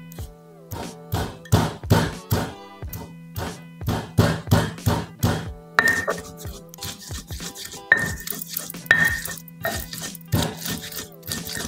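Seasoning being ground by hand, a steady rhythmic series of close scraping, rubbing strokes about twice per second.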